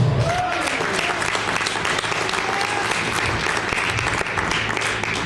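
A church congregation applauds the Lord, a dense, steady wash of clapping from a large crowd that fills the whole stretch, with a few faint voices calling out underneath.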